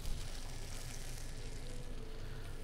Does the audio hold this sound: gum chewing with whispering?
no